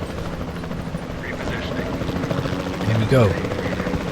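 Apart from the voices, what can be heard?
helicopter flying in video game Jurassic World Evolution 2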